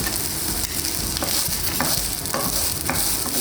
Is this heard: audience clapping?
no